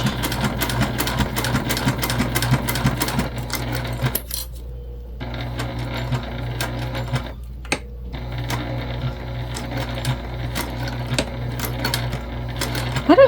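A sewing machine that is skipping stitches sews the sides of a travel sling bag, running close and loud in rapid rattling bursts, pausing briefly twice before starting up again.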